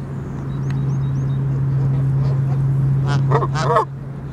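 A goose honks several times in a quick cluster near the end, close and fairly loud, over a steady low hum.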